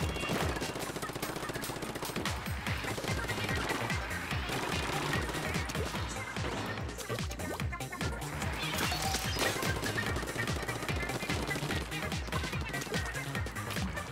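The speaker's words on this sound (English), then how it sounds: "I got the minigun!" Gatling minigun spraying continuously in a Splatoon 2 match, a dense unbroken rattle of fire mixed with busy game sounds throughout.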